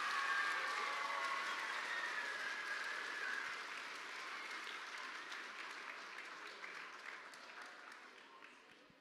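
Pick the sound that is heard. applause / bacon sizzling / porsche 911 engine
applause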